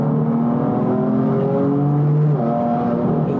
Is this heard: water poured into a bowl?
no